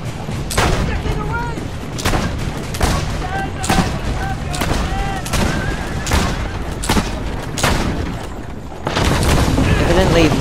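A 1500s-era machine gun in Assassin's Creed Brotherhood fires a series of loud, booming shots spaced roughly a second apart, each with a sharp crack and heavy rumble.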